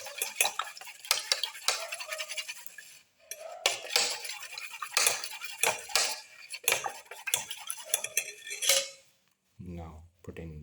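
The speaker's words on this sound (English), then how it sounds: "Mix the eggs." Eggs are mixed in a bowl with cutlery for a black pepper chayote omelette, giving rapid, close clinks and scrapes in quick bursts with a brief pause midway and a short voice-like sound at the end.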